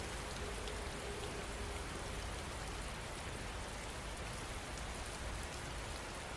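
Steady rain falls without pause, a dense, even hiss of drops on surfaces with no voices or thunder.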